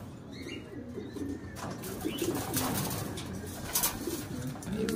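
Racing pigeons coo at a loft in Catanauan, Quezon, a low, rolling murmur repeating through the clip under a faint background hiss, with a few soft chirps.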